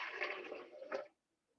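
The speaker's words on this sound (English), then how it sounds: "I'm going to add 3 cups of water" Three cups of water poured into a blender for African peanut soup, a short close splashing gush lasting about a second before stopping abruptly.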